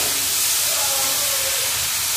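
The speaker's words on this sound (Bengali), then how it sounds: "সুন্দর করে নেড়ে নেব।" Tender kalmi greens fry in a pan with onion, dried chilli and garlic, giving a loud, continuous hiss and sizzle that stays even throughout as they are stirred.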